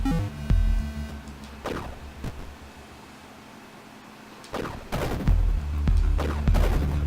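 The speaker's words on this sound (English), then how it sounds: "Firing once launches a large projectile. Firing again causes it to detonate." Nova gun in the side-scrolling game Axiom Verge launching large projectiles and then detonating them, a few sharp shots with booming blasts separated by a quieter pause, fairly loud over a steady electronic hum.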